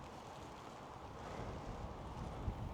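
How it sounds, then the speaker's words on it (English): Wind blowing outdoors at a fishing spot, a steady low rushing buffet against the microphone that swells slightly midway with a brief gust thump near the end. "the wind's definitely not helping things, that's for sure"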